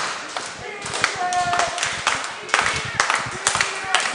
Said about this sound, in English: Crowd getting behind Sean Silence.